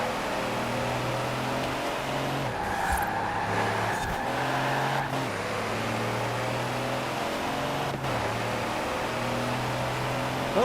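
In Forza Horizon 4, a semi truck's engine labours up a hill with a steady, loud, low droning hum, its pitch stepping between gear shifts, with no voices over it.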